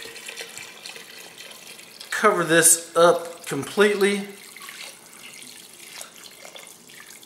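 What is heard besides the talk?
water poured over beef bones into pressure cooker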